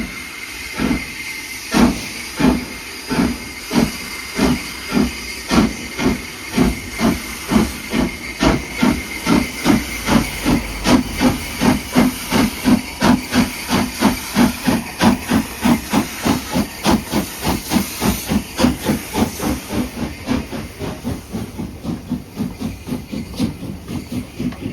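A steam train at Goathland station gives loud, rhythmic chuffs and hissing blasts that quicken into a steady beat, close by and dominating, with a continuous steam hiss underneath.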